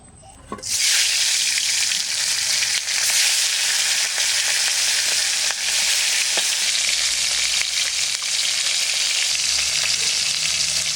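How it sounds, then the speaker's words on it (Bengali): Hilsa fish head frying in hot oil gives a loud, steady broadband sizzle that starts abruptly near the beginning and crackles continuously to the end, close up and heard alone with no talking. "মাছের মাথাটা একটু ভেজে নিই।"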